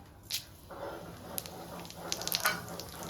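Bay leaves, cinnamon, cloves and whole cumin sizzle and crackle in hot oil after fish frying, a close, fairly faint hiss with scattered pops.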